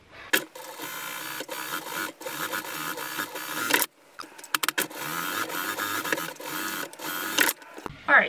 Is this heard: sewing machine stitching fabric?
yes